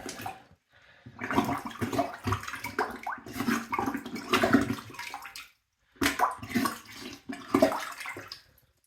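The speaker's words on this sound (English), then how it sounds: "They said you can plunge it to try and get more" A plunger working a leaking toilet from bottom: wet sloshing and gurgling water surges in repeated bursts, close and fairly loud, with a brief pause midway.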